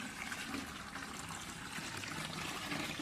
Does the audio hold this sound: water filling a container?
yes